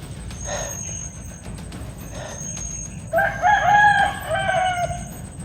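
Chickens cluck softly in the background, then a rooster crows loudly and nearby, its drawn-out call lasting a couple of seconds over steady ambient noise.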